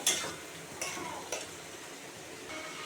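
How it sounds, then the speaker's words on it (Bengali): Egg curry masala is stirred in a pan, with a spoon scraping in a few soft strokes over a faint, low sizzle. "এখন ভালো করে কষাবো"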